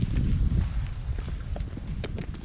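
Strong wind buffets the microphone outdoors on a lakeside walking trail at Lac de Bütgenbach, a loud, irregular low rumble with gusty surges, alongside faint footsteps and scattered small knocks.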